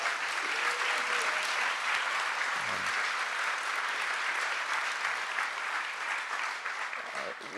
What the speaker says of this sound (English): So let's please give another warm round of applause to Werner Herzog.